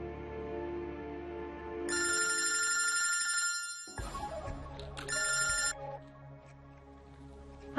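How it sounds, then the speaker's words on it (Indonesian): A phone ringtone trills in repeated electronic bursts while a call is placed, a steady ringing pattern that stops and restarts in a quiet indoor scene. "Oh, yaudah, aku telepon Kayla ya, Bi"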